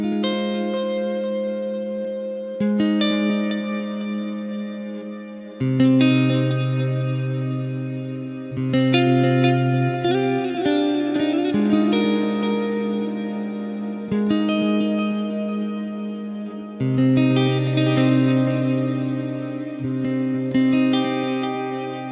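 Electric guitar through a Fishman Fluence Tosin Abasi signature pickup in split-coil mode, playing chords and short phrases with a bright, slightly processed tone and echoing sustain, each strum ringing out before the next.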